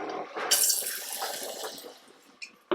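Shipstones Original Best Bitter poured into a glass fitted with a fine sparkler, a close gushing, splashing liquid flow that tapers off, followed by a few faint clinks.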